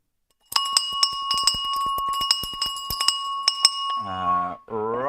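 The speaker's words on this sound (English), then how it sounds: "Right, here we go for the opening bell." A stock market opening bell rings in a rapid series of bright metallic strikes with long sustained tones, followed by a brief tonal voice-like sound at the end.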